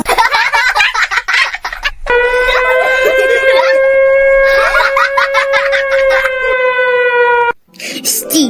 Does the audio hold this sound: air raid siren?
yes